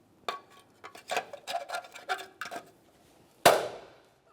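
On a 1998-2011 Ford Ranger, a wheel center cover is tapped into place with a run of light, quick knocks, then a pause and one harder, ringing blow that fades out, close and without speech.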